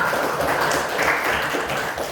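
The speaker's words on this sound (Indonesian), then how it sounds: "kita berikan tepuk tangan untuk Riko" A classroom of students in a year eight maths lesson clapping for a classmate, a brief steady patter of applause from a group, fairly close, with no talk over it.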